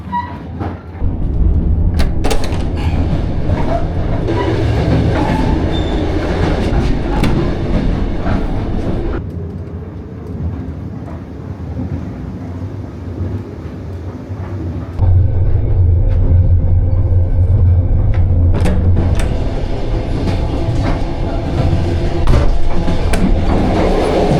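A K23 Beijing to Ulaanbaatar train rumbles steadily along the rails, loud and continuous, with rhythmic clacking of wheels and occasional rattles and bumps.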